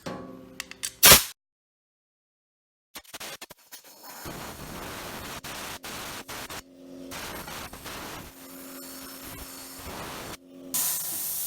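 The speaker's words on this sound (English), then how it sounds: "This blows almost 100 pounds of air, and you can vary it, of course," A high-powered handheld air nozzle blowing at a motorcycle light lens, sending out loud hissing bursts of air that start and stop between silent gaps, close by and with no talking.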